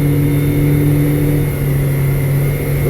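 A boat engine holds high revs at cruising speed after planing, a loud steady drone with a stable tone that dips slightly near the end, with no voices.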